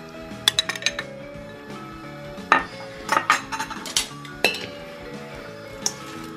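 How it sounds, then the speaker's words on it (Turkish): Broccoli salad tossed with dressing in a bowl, giving scattered clinks of utensils against dishware with sharp individual taps and short clustered bursts, close and fairly quiet. "Sosumu güzelce karıştırıyorum. her şey birbirine karışacak şekilde salatamı gezdiriyorum."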